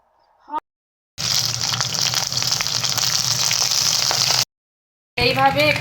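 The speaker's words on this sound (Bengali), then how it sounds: "এবার সর্ষে তেল দিয়ে পটলটা ভেজে নাও।" Pointed gourd (potol) frying in mustard oil gives a loud, steady hiss and sizzle for about three seconds, cut off abruptly, with a brief faint sound before it and another burst of sizzling near the end.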